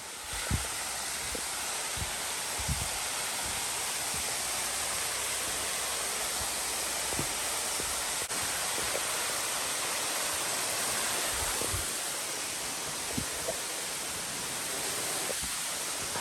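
A loud waterfall at Copperas Falls on an Appalachian trail gives a steady roar that fills the whole clip, close and unbroken, with no voices.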